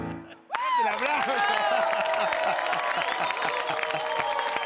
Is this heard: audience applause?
yes